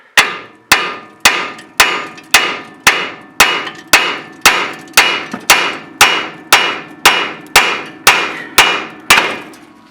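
Steady hammer strikes on a Cadillac lowrider's ball joint and spindle during a control arm install, about sixteen sharp metallic blows in an even rhythm, loud and close, with no talking.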